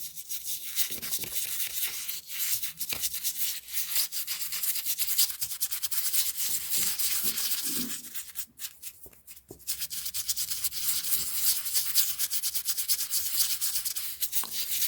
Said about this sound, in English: Buffing it until the brass is almost dry.